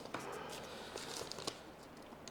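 Question cards are shuffled by hand, giving a steady papery riffling and crinkling with a few sharper flicks, close and fairly quiet, with no talk over it.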